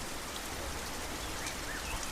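Rain pouring steadily, a dense continuous hiss of drops on surfaces, close and even throughout with no voices.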